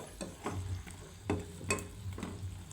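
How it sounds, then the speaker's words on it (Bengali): Semolina puli pitha is stirred in sugar syrup in a pan, giving a few soft scraping and clicking strokes over a low, steady background. "আমি এটাকে এখন রসে পুরো মিশিয়ে নেব"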